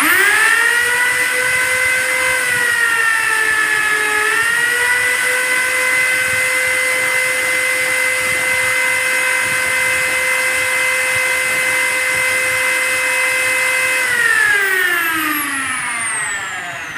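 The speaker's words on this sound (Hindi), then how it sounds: "अभी मैं ड्रिल मशीन को ऑन करता हूँ" Electric drill machine running steadily for about fourteen seconds with a high whining motor tone that shifts pitch slightly, then winds down near the end, alone with no talk.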